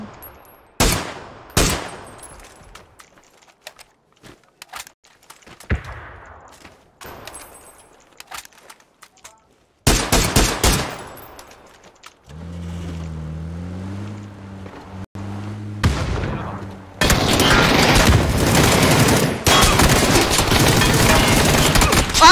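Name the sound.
MK47 gunfire in the video game PUBG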